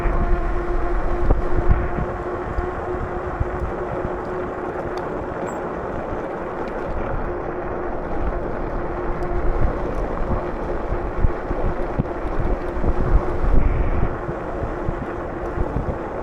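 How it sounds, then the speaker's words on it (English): Steady roaring wind buffeting the microphone while riding an ATV down a hill, a continuous loud rushing that swells and eases slightly with no talking. "That wind gets a little chilly when it gets whipping through your ears and stuff."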